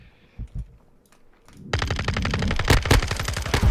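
Rapid automatic gunfire from a rifle in Modern Warfare 2, a dense string of sharp shots bursting in after a quieter stretch with a few isolated clicks, loud and continuous to the end.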